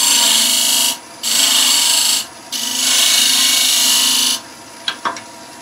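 A flat scraper cutting wood on a lathe during thread chasing and long hole boring, with three loud sustained rasping cuts separated by short pauses, then a few light knocks.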